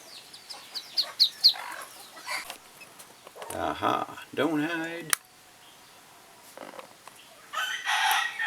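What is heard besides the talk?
chickens clucking and a rooster crowing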